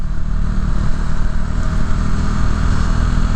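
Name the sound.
motorcycle riding on a Chicago road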